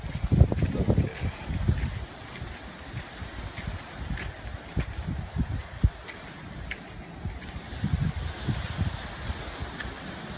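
Gusty outdoor wind in Florida ahead of Hurricane Irma buffets the microphone in uneven low rumbling bursts, strongest at the start and again later, with no talking.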